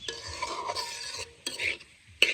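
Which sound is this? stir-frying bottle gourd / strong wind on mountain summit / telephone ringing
stir-frying bottle gourd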